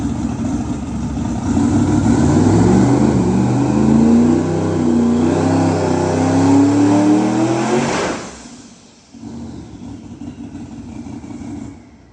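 Twin-turbo LS V8 on a dyno, loud sustained revving that climbs steadily for about eight seconds, then cuts off abruptly, drops to a brief lull and settles into a lower steady drone.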